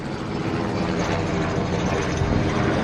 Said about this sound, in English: So I have 2 helicopters going over top of my head right now.